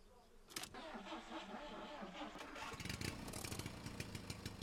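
Car engine revving hard in the video game Jalopy while the car is stuck on a bridge, a continuous loud mid-pitched engine drone that rises in intensity and holds steady throughout.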